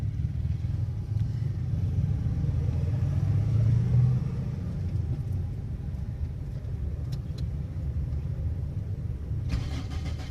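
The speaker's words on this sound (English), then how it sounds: "The car is going to run, and I will let it idle for a while" A car engine starts and then idles after its faulty fuel pump has been replaced. It gives a loud, deep rumble that swells around the start and then settles into a steady, even idle.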